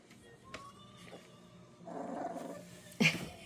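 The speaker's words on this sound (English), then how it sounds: "Got a little growl there." A Scottish terrier puppy growling softly, a low rumbling growl that swells midway and ends in a brief louder snarl, close and quiet with no talk.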